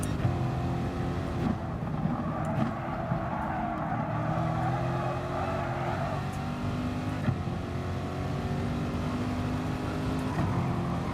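Engine of a light race car in Gran Turismo Sport, a steady droning whine with shifting pitch that holds at an even loudness throughout, alone with no talk over it.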